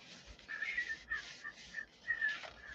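A person whistles a wandering tune while working on animation cel ink and paint, faint and close, in short phrases with brief pauses.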